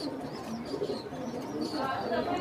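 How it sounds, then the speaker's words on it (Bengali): Baghdadi pigeons coo softly in a loft setting, low continuous murmuring under nearby people talking. "এক কবুতর নাম কি? বাগদাদি হুমা"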